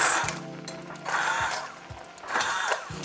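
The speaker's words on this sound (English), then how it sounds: "So now I'm going to use my hand blender." A hand blender whirs in three short bursts, each starting with a low buzzing motor hum and a rough grinding wash of homemade baby food being blended.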